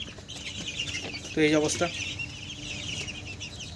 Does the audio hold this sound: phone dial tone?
no